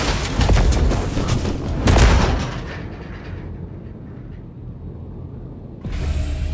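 Pistol fire in the video game Cyberpunk 2077: a rapid cluster of loud, sharp shots early on, then fading into a quieter rumbling mechanical background with a final burst of noise.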